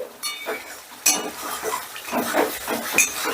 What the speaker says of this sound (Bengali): কাসৌরি মেথিটা একটু মশলার সাথে মিশিয়ে দিচ্ছি